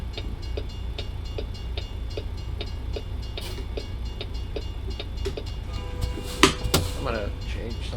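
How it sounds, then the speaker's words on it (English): Train passing in a trucking video game with a Peterbilt 389, a steady rumbling roll with rhythmic clacks throughout, a brighter horn-like burst near the end, all fairly close and alone without talk. "Oh, stopping for a train."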